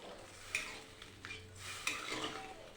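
A spoon stirs egg curry in a pot after water is added to the cooked-down spices, in a dim kitchen during a power cut. Soft scraping and clinks come in a few strokes, with a faint sizzle underneath and no talking.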